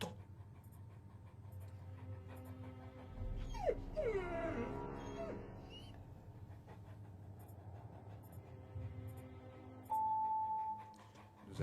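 A dog whimpers and pants in short, high whines around the middle of the stretch, set against a steady low hum and faint mechanical noise, with a brief tone near the end.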